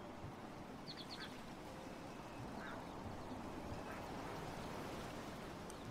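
Ducklings in the video game Ducklings.io give a few short, quick quacks over a steady faint hiss of background noise.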